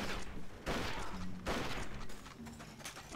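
Gunfire in the Western shooter game Red Dead Revolver, a few heavy bursts of shots with booming impacts over steady game noise, no talking.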